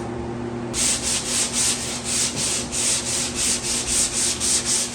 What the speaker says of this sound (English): you can actually remove this just by sanding it